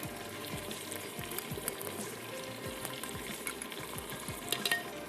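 Garlic ginger paste sizzles in a hot frying pot for matka gosht, a steady crackling fry with intermittent stirring scrapes throughout, close and moderately loud, with no voices.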